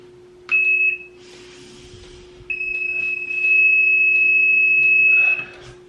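An electronic stud finder sliding along a bedroom wall during TV mount installation gives steady, high-pitched beeps: a short tone, a pause, then a longer sustained beep, all close and clear over a low hum.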